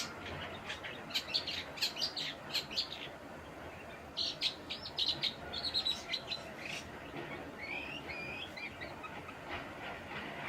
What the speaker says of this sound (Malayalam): ഇതാണ് ജംഗിൾ മൈന.